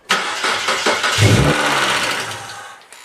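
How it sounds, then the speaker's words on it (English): A Mazda engine cranks and catches, rising into a loud, close running roar that holds steady for a few seconds before dropping off as the car shuts itself down. "I'm going to start the car."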